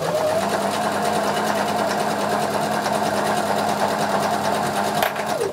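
A sewing machine stitches continuously at close range, a steady fast mechanical whirr with a rapid needle rhythm, briefly easing near the end.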